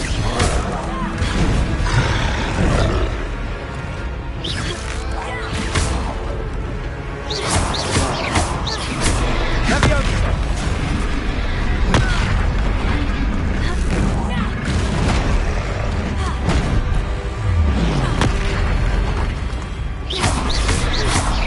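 Confringo fire spells exploding in combat in Hogwarts Legacy, with repeated booming blasts and roars in a loud, continuous battle din and bursts spaced every few seconds, mixed with voices.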